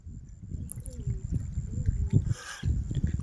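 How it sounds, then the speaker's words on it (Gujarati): A ferry boat approaching across the Mahisagar river putters with a low, uneven engine drone and water splashing, interrupted by a brief hiss, with some faint background voices. "ગાઈસ હોડી આ સાઈડ આવી રહી છે"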